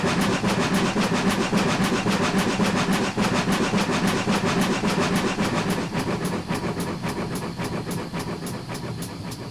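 A GWR Hall steam locomotive labours up a grade on the West Somerset Railway, its exhaust beating in a steady, dense rhythm under continuous rumble and hiss, loud and close throughout.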